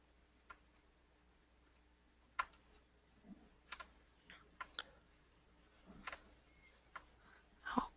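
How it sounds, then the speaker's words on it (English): Someone typing on a computer keyboard, faint scattered key clicks and taps at an irregular pace, a few slightly louder strokes, in an otherwise quiet room. "I think somebody is typing."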